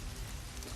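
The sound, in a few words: rain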